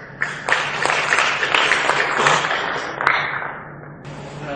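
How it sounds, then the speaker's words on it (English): A congress audience at a global textile congress in Bangkok gives a speaker a strong round of applause, with dense, fairly loud clapping that swells and then fades away. "Please give him a huge round of applause."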